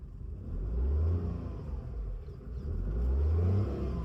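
Car engine revving lightly in two swells while the clutch is eased out on an uphill start, the brake released and a little throttle given; close and steady with no talk.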